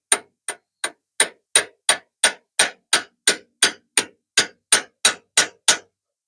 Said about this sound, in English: I'm going to tap this thing with my hammer on this side and try to get her started